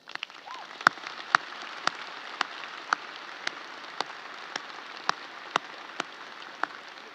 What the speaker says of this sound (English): let's take a moment and thank them with a round of applause